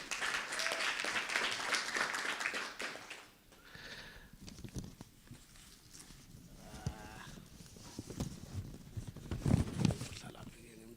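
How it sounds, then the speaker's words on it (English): Audience applause fills a conference hall at the Internet Governance Forum 2022, a dense burst of clapping for about three seconds that fades out as a voice begins speaking. "Please also give her a round of applause."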